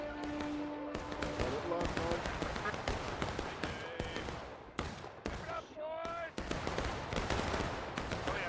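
Musket volleys crackle through a Civil War video game battle, a dense continuous stretch of overlapping shots with no silent gaps, mixed with distant shouting and other battle noise.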